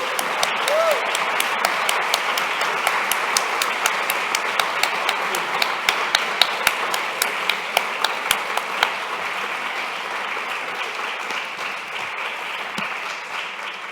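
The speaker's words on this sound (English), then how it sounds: "as we give Tamirace a round of applause, I want us to as well give a round of applause to someone that has been behind this" A conference audience at a forced migration studies keynote gives a sustained round of applause, steady and fairly loud with distinct sharp claps standing out, gradually thinning toward the end.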